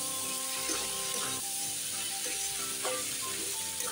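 Bottle gourd sautéing with salt and spices in a pan, a steady low sizzle with occasional soft stirring scrapes, close by, over faint tonal background music.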